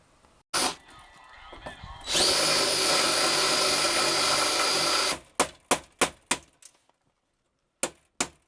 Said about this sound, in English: I've started drilling out the rivets on the door skin